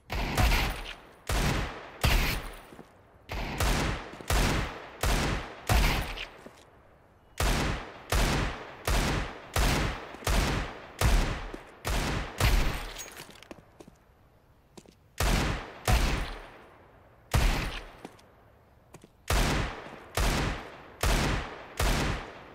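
Rapid bursts of video game gunfire, shot after shot in quick clusters with brief pauses between volleys, loud and close, with no talking.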